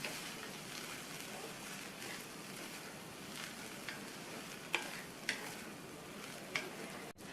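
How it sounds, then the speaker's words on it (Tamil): Sautéed spinach greens and cooked rice being stirred together in a pan: a faint, steady sizzle with a few soft scraping clicks from the spoon near the end. "சேர்த்துட்டு நல்லா ஒன்றா கிளறி கொடுத்துட வேண்டியதுதான்"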